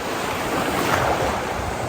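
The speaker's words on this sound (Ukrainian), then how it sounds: "Так, ось море." Sea waves wash onto the beach at Nesebar in a steady, loud roar of surf mixed with heavy wind buffeting the microphone, with no voices.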